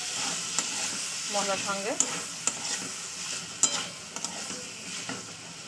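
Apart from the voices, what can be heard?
stir-frying tomatoes, green peas and green chillies in a pan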